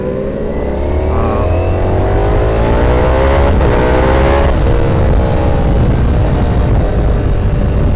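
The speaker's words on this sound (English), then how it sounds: "I told Rock to go ahead and rip on the ZX6 a little bit." A Kawasaki ZX6R sport motorcycle accelerates hard on a road ride, its engine droning loud and close with rising pitch through the gears, heard continuously with no talk.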